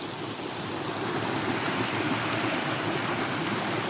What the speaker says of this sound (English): There's the creek going that way.